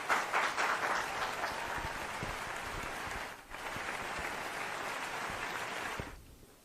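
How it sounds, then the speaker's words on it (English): An audience at an organisation event welcomes a speaker with a broad wash of applause, loud at first, dipping briefly midway, then continuing steadily before fading out at the end. "please welcome him with a huge round of applause"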